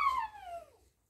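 A single thin whimper from a four-week-old puppy at feeding time, a short high cry sliding downward in pitch and fading out within a second, close and quiet.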